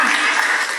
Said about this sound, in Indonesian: tepuk tangan buat keluarga Pak Alexi ini